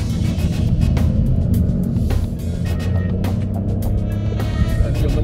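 A 2010s Opel Astra hatchback engine is pushed to full throttle, a loud, steady rumbling drone that holds continuously from start to finish, with road and cabin noise underneath and no talk.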